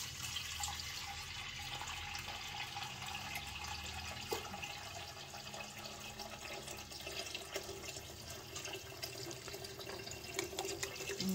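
Water runs steadily from a tap over food being washed in a pan in a home kitchen, a continuous close splashing hiss with faint clinks, no speech.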